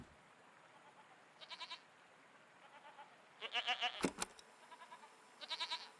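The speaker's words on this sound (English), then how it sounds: "Can I record the goat?" Goat bleating in the Season: A Letter to the Future game, several short wavering bleats in bursts of pulses, some quiet and one louder cluster, over a faint background with a brief click.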